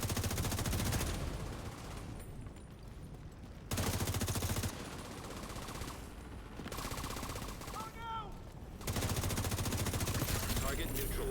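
Gunfire in The Division 2 video game: loud, dense automatic bursts of several seconds each, separated by short quieter stretches, with faint game sounds beneath.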